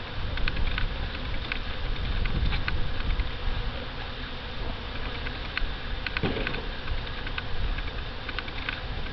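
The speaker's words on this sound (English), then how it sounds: "A lot of bees here." Honey bees swarm around an opened hive box during a midsummer inspection, a dense continuous buzz close by with scattered ticking and tapping sounds, no talking.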